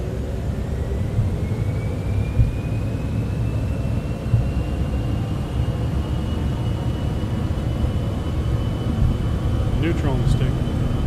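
Airliner engines spool up to takeoff thrust in Microsoft Flight Simulator 2024, a loud, steady roar with a rising whine held throughout, with a few brief clicks near the end.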